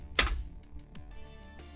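Typing a Linux terminal command on a computer keyboard: a loud first keystroke followed by a quick run of soft, close clicks.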